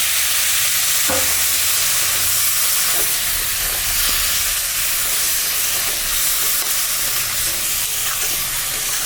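Jackfruit and prawn curry sizzles steadily in a pan with water added, a constant loud hiss under scattered scraping stirs, with no voices.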